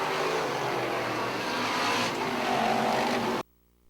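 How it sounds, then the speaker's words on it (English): Race cars roar around a dirt track in a loud continuous engine drone with rising and falling revs as they pick up pace, cutting off abruptly to near silence at the end. "Vernal in the 97 and Lindemann in car number 3 as they pick up the pace"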